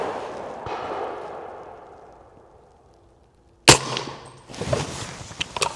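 A single sharp, loud rifle shot from an 8.6 Blackout rifle cracks out partway through, following a fading earlier noise and a near-silent gap, then trailing into rustling handling sounds.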